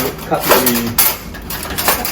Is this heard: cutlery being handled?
yes